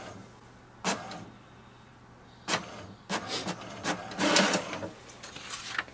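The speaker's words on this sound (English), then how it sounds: "Wait for the printer to print out the sheet." An HP DeskJet Ink Advantage 2776 inkjet printer prints a sheet, giving a series of mechanical whirs and clacks with a quiet hum underneath, busy bursts near the end, and no talking.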